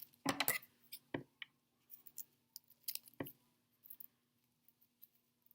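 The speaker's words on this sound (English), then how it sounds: "you can take your scissors and just trim the ends" Crisp, irregular snips of scissors trimming the ends of paper into curves for paper flowers, several sharp clicks spaced apart over a quiet background, no talking.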